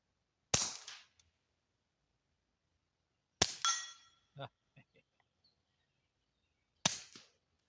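Three suppressed .22 rimfire shots through a Yankee Hill Machine Phantom 22 at a range, each a sharp, close crack with a short tail, widely spaced with near silence between, plus a few faint clinks after the second shot.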